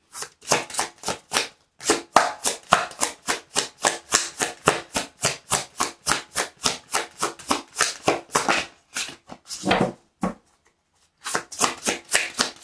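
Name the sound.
tarot cards being shuffled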